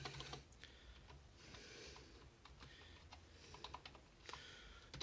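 Rapid, uneven keystrokes on a computer keyboard as a password is typed, clustered bursts of light clicks close by with brief pauses, fairly quiet and with no talking.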